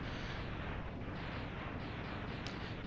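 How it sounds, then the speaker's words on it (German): A deep, rumbling explosion of a boss in Mega Man X fills the whole clip with a dense roar that stays loud and steady. "er ist explodiert."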